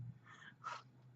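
A single short sneeze, faint and somewhat distant, with a quick intake of breath before the burst.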